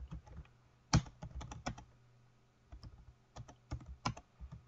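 Rapid keystrokes on a computer keyboard while working in a drawing program, coming in irregular bursts of clicks with brief pauses, close and fairly quiet, with no voice over them.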